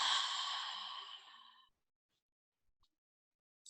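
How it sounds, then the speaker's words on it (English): A single long, steady exhale through the mouth during a yoga cool-down, loud and close at first and then fading out over about a second and a half, followed by near silence with a few faint small clicks. "Exhale through your mouth."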